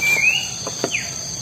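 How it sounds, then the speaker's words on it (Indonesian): A thin, high bird chirp opens, followed by a couple of soft clicks and another brief chirp over faint outdoor background noise. "Tak denger gak ocehan burungnya?"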